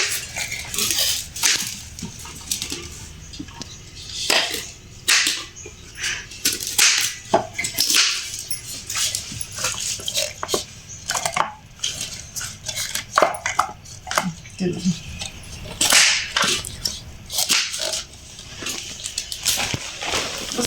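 Cabbage is chopped in a hand-cranked rotary vegetable chopper, giving repeated close bursts of whirring, crunching and plastic rattling as the handle is turned again and again in uneven spurts.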